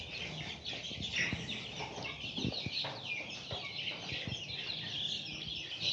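Australorp chicks and chickens in a poultry shed cluck and chirp continuously, many birds at once with bright overlapping calls and a few louder nearby clucks, no one talking.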